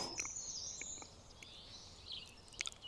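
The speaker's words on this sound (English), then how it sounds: "but also the sound of the birds and a full blue sky" Birds chirp and call outdoors under a clear sunny sky, a few faint, brief high tweets scattered over a quiet background with no talking.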